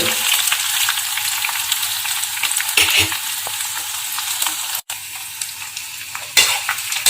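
Nochi leaves frying in hot oil for a hair oil, a continuous bright crackling sizzle with scattered pops and a brief stir, close and unbroken throughout.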